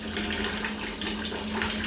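Water running steadily into a pot of Tamil sundaikai poondu kuzhambu, a tamarind curry with turkey berries, garlic and potato, a continuous close rushing pour with no breaks.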